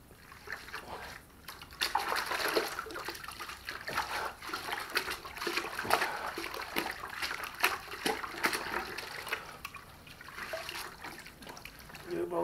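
Water sloshes and splashes steadily in a bucket as gold concentrates are rinsed out of Myers sluice moss, close up and continuous with irregular splatters and trickles.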